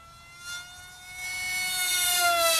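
A Sonic Modell AR Wing RC plane speeds past, its high electric motor whine holding then rising and growing louder as the throttle is pushed up, alone with no talk.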